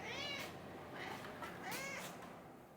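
A cat meows twice at close range, drawn-out and slightly wavering calls over a quiet room hiss, with a short gap between them.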